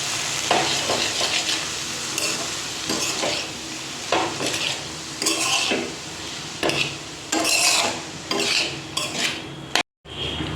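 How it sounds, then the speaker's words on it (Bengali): Malabar spinach frying in a pan is stirred vigorously, a sizzling bed broken by repeated scraping and clanking strokes of a spatula against metal, close and fairly loud, ending with a brief sharp cutoff. "এবার এটাকে ভালো করে নেড়ে ঢাকা চাপা দিয়ে দেবো"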